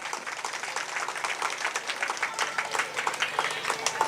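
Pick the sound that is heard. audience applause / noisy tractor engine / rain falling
audience applause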